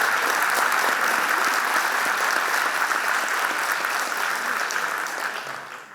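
Steady, full audience applause fills a lecture hall after a talk by Diego Golombek, holding even for several seconds before tapering off at the end.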